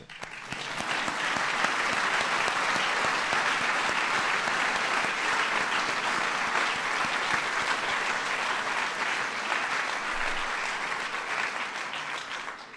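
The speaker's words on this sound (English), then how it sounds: "It's worth applause." Sustained audience applause at an awards event honoring the 5000th Daily Point of Light, a dense wash of clapping that swells quickly and holds steady for about twelve seconds before easing off.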